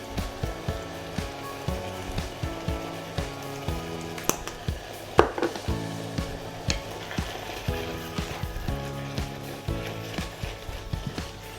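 Seasoned ground beef for chilli con carne, salted and sprinkled with paprika, sautéing in a pan: a steady low sizzle broken by irregular scraping and stirring knocks, with no talking.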